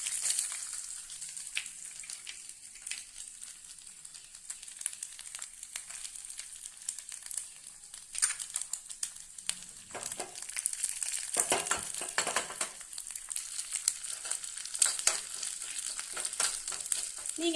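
Cashews and coconut pieces fry in a little ghee with a soft, steady crackling sizzle, joined by louder bursts of stirring and scraping in the second half.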